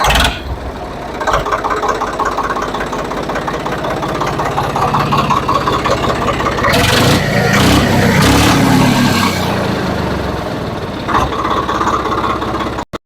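A modified 855 tractor engine fitted with a Holland silencer runs steadily and loud throughout, its low rumble swelling as it is revved in the middle before settling back to a steady idle.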